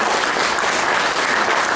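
Dense, loud applause from a crowd after a film screening and debate in Poland, a continuous wash of many hands clapping evenly throughout with no pauses.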